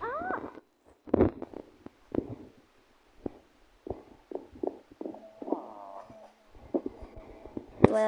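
A Minecraft cat meows repeatedly in short, clear, close calls with pauses between them, alongside other small game sounds and no speech.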